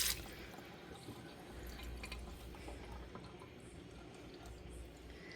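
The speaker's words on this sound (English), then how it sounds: "So I just go ahead and wash these up." Garden vegetables are washed under running water, a steady trickling, splashing flow with faint drips and small clicks, fairly quiet and close, with no talking.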